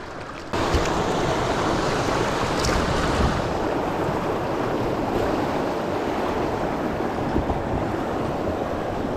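River rapids rushing past a small fishing boat, a steady loud broadband wash of turbulent water with wind buffeting the microphone, starting abruptly and continuing unbroken.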